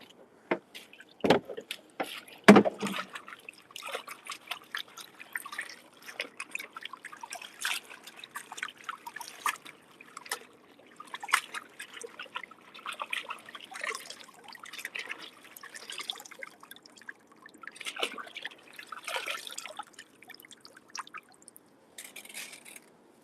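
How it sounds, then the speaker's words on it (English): Tap water runs and trickles over Swiss chard leaves being rinsed in a kitchen, with scattered splashes, drips and handling noises, quiet and irregular throughout. "Let's go ahead and rinse off my Swiss chard."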